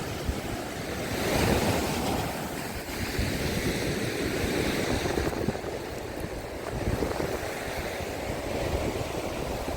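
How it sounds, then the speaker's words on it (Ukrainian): Loud, continuous crash and roar of rough storm surf breaking on a Black Sea shore in Odesa, with gusty wind buffeting the microphone throughout. "А тут, бачите, шторм сильніший, так?"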